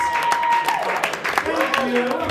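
A comedy club audience at a stand-up show applauds with moderately loud, fairly dense clapping while a voice talks over it.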